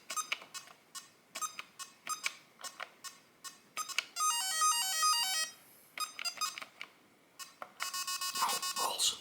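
Rapid electronic beeps and bleeps from an Entex Space Invader handheld video game, a quick string of short shots broken by two longer warbling sweeps, loud and close with no voices.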